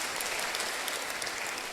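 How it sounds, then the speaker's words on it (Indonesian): Church congregation applauding during a Wednesday worship service sermon, a steady dense wash of many hands clapping at once, fairly faint and distant, with no talk over it. "Tepuk tangan dulu untuk Tuhan yang hebat itu."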